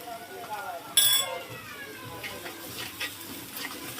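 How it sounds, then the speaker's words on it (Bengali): Spice paste of cumin and coriander powder with salt sizzles and scrapes in oil as it is stirred in a pan for a taro and hilsa curry, with a sharp clink near the start and continuous soft frying throughout. "ভালো করে মশলাটা কষাচ্ছি।"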